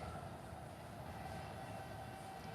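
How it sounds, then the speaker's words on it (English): Steady low rumble of a moving train heard from inside a carriage, a continuous broadband roar with a faint tonal hum, no voices. "So right here, I'm on the train right now."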